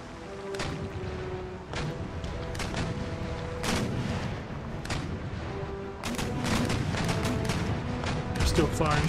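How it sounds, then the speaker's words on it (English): Naval cannon fire in Empire Total War sounds as scattered booming broadside shots near and far, some grouped in quick volleys, over ongoing battle noise with someone talking throughout. "Still firing shots into San Juan Batista."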